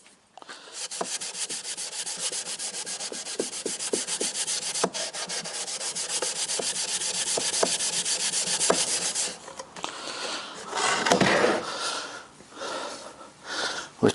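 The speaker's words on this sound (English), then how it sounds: "We'll apply this wax to the sides and to the runners." Wax rubbed by hand onto the sides and runners of an old oak drawer, a continuous close scuffing friction for most of the stretch, then a few heavier brushing strokes, with no one talking.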